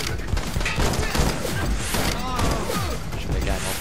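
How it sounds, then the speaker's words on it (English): Dense bursts of video game gunfire and impacts from the shooter game The Club crackle continuously, loud and busy throughout, with a voice and game sound effects mixed in. "Shoot that guy in the back."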